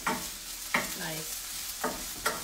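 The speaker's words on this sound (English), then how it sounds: "Okay, so you hear the sizzling?" Food sizzling and crackling in a hot pan, a steady hiss punctuated by a few sharp bursts as it is stirred.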